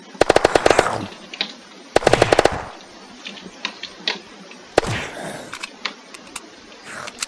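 Rapid automatic gunfire from a fast-firing weapon in the video game Unturned, loud close bursts of shots with pauses between, later shorter scattered shots.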